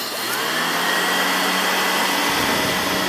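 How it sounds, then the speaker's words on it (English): A Riccar Brilliance upright vacuum cleaner runs loudly and steadily on dirt, a close, continuous motor whine and airflow roar with no speech. "Now watch how this machine perform on dirt."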